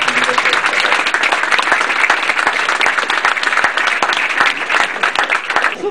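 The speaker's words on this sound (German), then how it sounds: "Ich glaube, im Namen aller einen kräftigen Applaus für die gute Gast." Guests at a Heuriger wine tavern gathering clapping together in strong, sustained applause, a full continuous patter of many hands close by with no pause.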